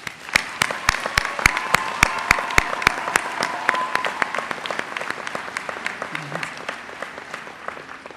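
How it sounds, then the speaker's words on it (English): Audience applause at an evening college commencement ceremony, with sharp, close claps in a quick, regular rhythm over a broader wash of crowd clapping that slowly thins out over several seconds. "Let's give them a round of applause."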